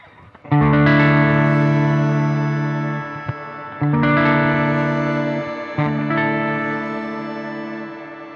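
Guitar chords through the reverb of a Zoom MS-50G MultiStomp pedal ring out three times, each strum sustaining into a long, shimmering reverb tail that slowly fades before the next.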